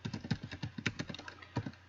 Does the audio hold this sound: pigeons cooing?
no